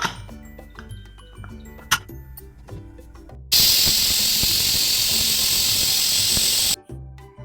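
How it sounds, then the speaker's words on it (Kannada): A pressure cooker cooking basale greens sambar gives a loud, sustained hiss of escaping steam for several seconds, starting and stopping abruptly, after quieter ticking and clinking kitchen sounds. "cooker whistle ಆರಿದೆ"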